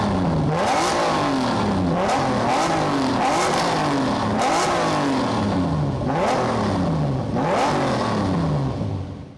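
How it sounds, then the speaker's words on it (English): A 1998 Lamborghini Diablo SV engine blips through its center exhaust in a series of loud, close revs, each one sweeping up sharply and falling away, with about five separate throttle bursts over a steady idle. "Take a listen to a couple of revs from the Diablo"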